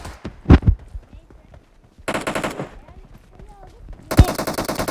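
Automatic gunfire from the mobile battle-royale game PUBG Mobile comes in two loud, dense bursts of rapid shots, with a sharp thump early on and voices and game noise between the volleys.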